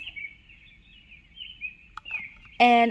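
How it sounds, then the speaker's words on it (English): Birdsong from a white noise sound machine, a thin continuous chirping trill playing quietly and steadily, then ending in a louder, harsher burst of sound at the close. "Birds."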